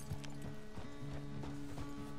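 Horse hooves walking in Red Dead Redemption 2 give a steady, close clip-clop rhythm of hoofbeats over a continuous dense backdrop of game ambience and music.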